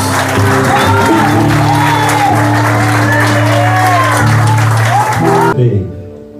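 A church congregation claps loudly and steadily with scattered shouts and whoops, while an amplified voice carries over the applause before it cuts off abruptly.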